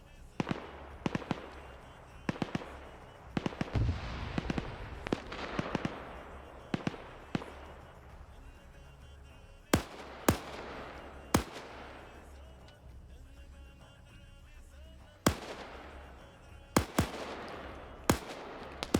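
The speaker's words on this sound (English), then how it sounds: "Shots coming up on that tower. I'm waiting to see this local tower open up with its machine gunners." Gunfire from a PvP war video game, with machine gunners on a tower: scattered sharp single shots and short bursts crack out at irregular intervals, some loud and close, others faint and distant, over a quiet background.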